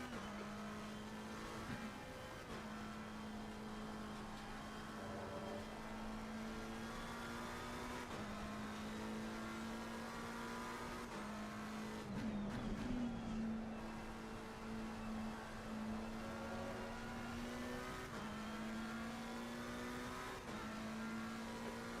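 Race cars in a track race hold a steady engine drone for the whole stretch, with a sustained engine tone that rises and falls, a brief louder burst partway through and a faint sense of other cars around.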